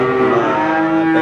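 A Simmental cow or bull gives one loud, close, sustained moo with a rich harmonic drone that holds steady for just over a second, heard alone without talking.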